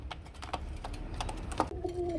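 Pigeons cooing in a dealer's loft of paired breeding pigeons, soft low coos repeating close by, with light clicks and shuffling among the birds and a brief sharper call near the end.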